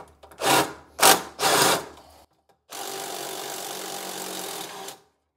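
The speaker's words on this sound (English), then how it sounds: "I'm going to use my wrench here." A ratcheting wrench works on the battery hold-down of a 2017 Club Car Carryall 500 golf cart: three quick rasping bursts, a pause, then a longer steady ratcheting run, up close with no speech.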